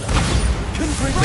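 Bombarda spell blast in the video game Hogwarts Legacy, a loud, deep booming rumble that fills the short moment, with a voice speaking over it.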